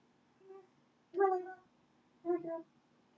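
A house cat meows three times close by, a short soft call followed by two louder, drawn-out meows with brief pauses between them in a quiet room.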